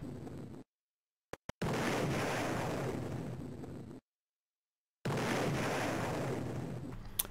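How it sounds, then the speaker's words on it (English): Explosion effects from Moonquake on an Acorn Archimedes A3010: two long, roaring bursts of noise, each fading slowly, divided by abrupt silences with a couple of tiny clicks. "I like the explosion sound effect."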